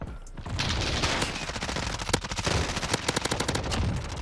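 Rapid MP5 submachine gun fire in Modern Warfare gameplay rattles off in dense, continuous bursts, loud and close, with a sustained spray of shots and no voices.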